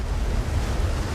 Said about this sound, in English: The tsunami rushes in,